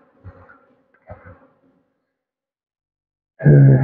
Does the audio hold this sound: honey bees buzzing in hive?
yes